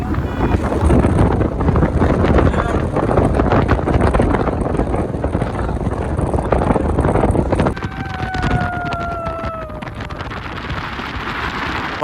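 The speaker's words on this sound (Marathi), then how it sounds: "एवढं थंड वारा आहे ना लय बरं वाटतं" Cool wind buffets the microphone on a road trip stop at Munnar, a steady loud roar throughout, with a brief two-tone whistle-like sound partway through before the gusts ease slightly.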